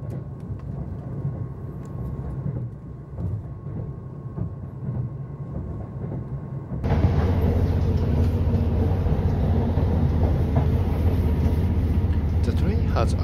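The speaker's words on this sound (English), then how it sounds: "The train is running in the mountain remote area." The limited express Okhotsk train runs through a remote mountain area of Hokkaido in winter, giving a steady low rumble of wheels and motors. The roar jumps louder and brighter halfway through and stays there.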